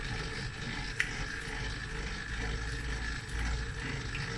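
Water poured into 100% biga pizza dough at 75% hydration during the first kneading period, a steady soft trickling and sloshing that runs throughout with a faint click near the start.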